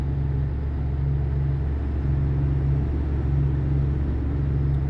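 A truck drives in the video game Euro Truck Simulator, a steady low engine drone with a pulsing hum, continuous and fairly loud with no other sounds standing out.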